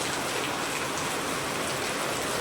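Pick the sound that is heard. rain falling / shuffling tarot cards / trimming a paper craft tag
rain falling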